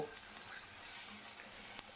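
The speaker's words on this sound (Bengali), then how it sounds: "আর কড়াইয়ে ভোলা মাছ ভাজতে দিয়ে দিয়েছি" Bhola fish frying in oil in a wok, giving a steady, faint, even sizzle throughout with no voices.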